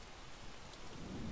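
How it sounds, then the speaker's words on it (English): Rain falls in a steady, soft hiss in the video game Don't Starve Together, with a faint low rumble beneath. "Sit in the rain."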